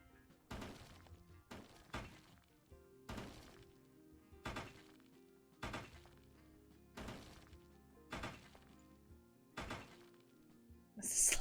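Sledgehammer smashing objects in the video game Hotel Renovator, a series of about eight sharp crashing impacts with breaking glass and thuds, spaced at a steady rhythm over faint background music.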